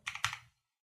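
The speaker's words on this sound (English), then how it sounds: "And then let's just hit double tab." Two quick, crisp clacks of the Tab key on a computer keyboard, close and fairly quiet, with a short gap between them before silence.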